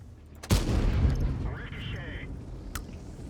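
A heavy tank cannon fires once in World of Tanks, a sharp loud boom that rolls into a rumbling tail, followed by faint game effects and a later smaller crack.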